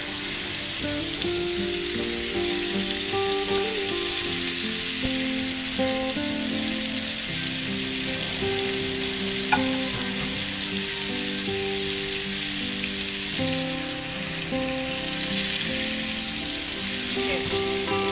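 Swordfish fries in butter with capers, giving a steady, close crackling sizzle that continues evenly throughout, with faint kitchen tones underneath and no talking.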